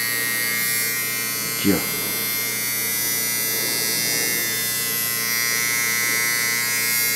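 A small AliExpress electric shaver buzzes steadily and continuously close by, with a person speaking Portuguese over the hum throughout.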